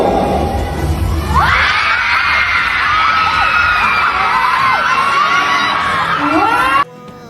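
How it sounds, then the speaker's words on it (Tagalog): Loud crowd at a summer tour event shouting, screaming and cheering, with high excited whoops and shrieks rising over a dense roar that cuts off abruptly near the end. "Kaya grabe din ang hiyawan ng mga tao."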